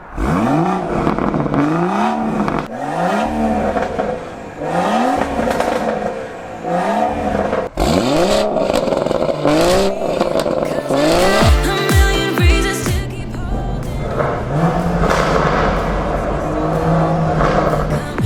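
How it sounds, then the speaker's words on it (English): BMW M140i engine in Sport Plus mode revving repeatedly in rising and falling sweeps, loud and close, with sharp blips and crackles toward the end. "you're probably going to want to hear some revs, so I'll put it in Sport Plus and have a listen to this."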